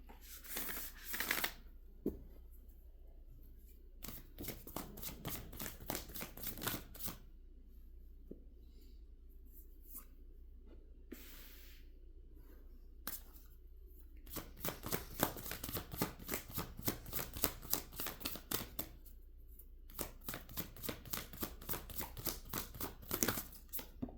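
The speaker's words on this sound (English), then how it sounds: "While I am shuffling these cards" Quiet tarot card shuffling in repeated riffling bursts, soft rapid flutters separated by pauses of near silence, recorded close.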